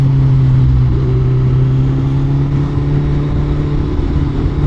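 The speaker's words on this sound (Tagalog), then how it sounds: "ito yung magiging motor natin or yung main bike natin" Kawasaki Z1000 motorcycle engine running at a steady idle, a loud, even low hum with strong tonal drone held throughout, no speech.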